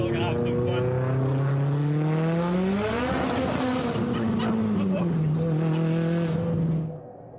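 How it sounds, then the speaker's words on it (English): A powerful car on a wet, rainy road spins all four wheels as traction breaks, the engine note climbing sharply then holding and sagging in a loud, sustained howl before cutting off at the end. "You can hear the car brake traction as all 4 wheels spin up."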